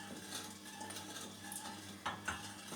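A spoon scrapes and swirls through sugar syrup in a pot as the sugar dissolves, giving soft, continuous stirring with light clinks against the metal, quiet and without voices.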